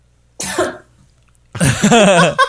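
A single cough from a woman at the back of a room during a podcast recording, two short harsh bursts, the second louder and longer, close and clear with no talk around them.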